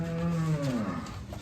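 Cattle moo in a barn, one loud close drawn-out low call that bends downward and fades, heard alone.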